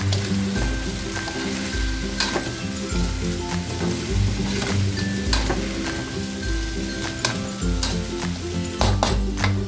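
Chayote (sayote) and ground pork sizzling in a pan, a steady crackling sizzle with a low bubbling undertone and occasional sharp pops from stirring, close and continuous, with no talk.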